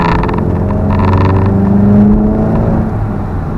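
A Volkswagen Golf GTI MK7 with a resonator-delete exhaust, in sport mode, holds a steady deep engine drone with audible induction grunt, loud and close, with a slight swell midway.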